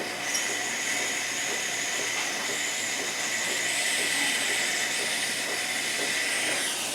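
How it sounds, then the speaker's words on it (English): An espresso machine pump runs with a steady high hiss and hum, continuous and fairly loud throughout with no talking. "You can hear the pump going."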